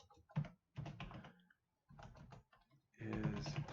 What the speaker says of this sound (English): For now, I'm just going to type some text.